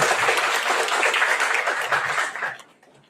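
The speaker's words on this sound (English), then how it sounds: "I want you to join in giving a big applause" An audience at a panel discussion on energy applauds, dense steady clapping from a full room that stays strong for about two and a half seconds and then quickly fades away.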